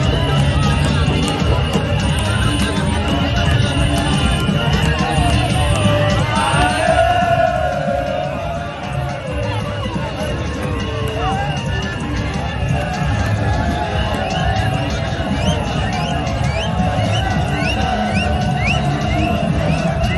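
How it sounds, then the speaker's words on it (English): A large crowd at an SLPP political rally in Koinadugu, Sierra Leone, fills the air with steady babble, shouts and occasional cheers, loud and continuous throughout. "So now see the amount of crowd we gather."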